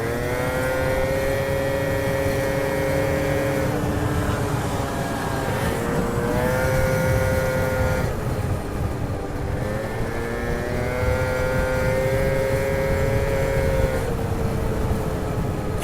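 A small scooter engine runs steadily while being ridden. The close, loud buzzing drone rises and falls in pitch in repeated waves as the rider accelerates and eases off, with constant road and wind rumble underneath.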